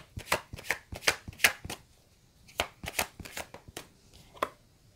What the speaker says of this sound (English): Let me pull some more cards for you.